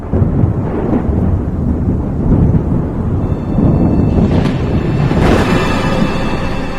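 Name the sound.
thunder rumbling overhead, radio drama sound effect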